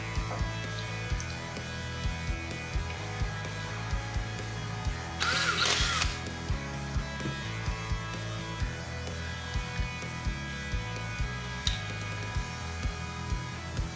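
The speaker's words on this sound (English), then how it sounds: "we're going to have to drill that out for the bolt to sit in deeper" A power drill whirs steadily at close range, drilling out a bolt hole, its motor note pulsing slightly, with a brief burst of harsher grinding partway through.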